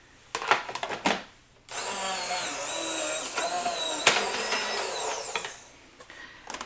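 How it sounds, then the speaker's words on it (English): A Big Shot die-cut machine rolls card through its plates, starting with a few knocks and clicks and then a sustained grinding whine that lasts several seconds before stopping. "So I'm going to cut it."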